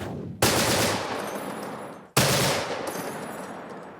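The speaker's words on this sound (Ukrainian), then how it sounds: "Та нині його головний інструмент американський кулемет Браунінг." An American Browning machine gun fires two long bursts, each a loud, sharp onset followed by rapid sustained rattling that decays, heard close with no talk.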